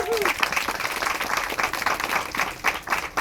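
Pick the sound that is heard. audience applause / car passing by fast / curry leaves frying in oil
audience applause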